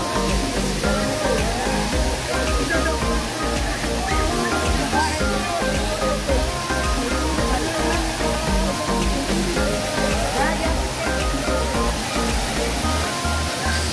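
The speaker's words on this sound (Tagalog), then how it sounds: "Ayan yung second level dito sa Erawan Falls." The second level of Erawan Falls roars with a continuous, loud rush of falling water, steady from start to finish with no breaks.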